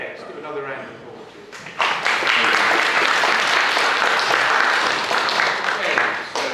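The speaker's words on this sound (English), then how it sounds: "let's give another round of applause" A conference audience applauding: dense, loud, sustained clapping that swells suddenly and holds steady for several seconds, after a brief stretch of talk at the start.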